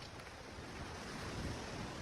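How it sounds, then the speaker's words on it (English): Strong ocean waves on a beach form a faint, continuous broadband wash, mixed with wind buffeting the microphone. "The waves are really strong today"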